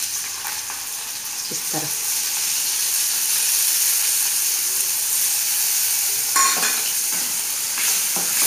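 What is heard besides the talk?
boiled peas and chillies being stir-fried in a pan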